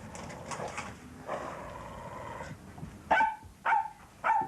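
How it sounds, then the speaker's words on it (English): A dog barks three sharp times and growls in an indoor scene, after quieter background talk and movement at the start. "I don't know why that dog has such an aversion to me."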